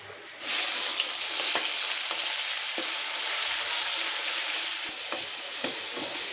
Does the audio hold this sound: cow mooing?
no